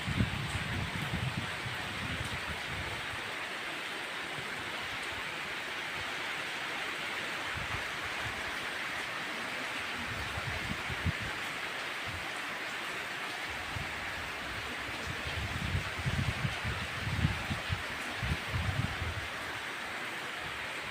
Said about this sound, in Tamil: மழை பாட்டம் பாட்டமாக பெய்யுது.